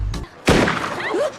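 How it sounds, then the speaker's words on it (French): A single gunshot in a film scene, fired by a grandmother shooting a bird near a gateway: a sharp, loud crack with a short rumbling tail, preceded by a faint thump. "un coup de feu retentit."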